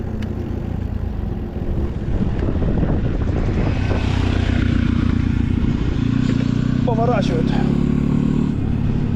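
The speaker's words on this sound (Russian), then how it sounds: "Мотоцикл едет, пускай едет" A motorcycle rides past on a road in Crimea, its engine drone rising and falling at moderate distance under steady ambient noise, while people speak briefly nearby.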